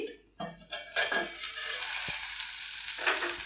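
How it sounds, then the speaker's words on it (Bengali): Steady crackling sizzle of onions frying in a covered pan for shakshuka, with a few scraping stirs near the start and a clink midway. "ঢাকাটা খুললে দেখুন পেঁয়াজটা কিন্তু অলরেডি ভাজা ভাজা হয়ে গেছে"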